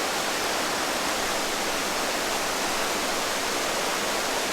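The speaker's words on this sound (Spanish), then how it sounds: "Este arroyo se llama Arroyo Santa Ligada y nace detrás del Cerro de la Cruz y nunca se seca" Arroyo Santa Ligada, a stream rising behind Cerro de la Cruz, rushes steadily and loudly close by, a dense unbroken wash of flowing water with no voices.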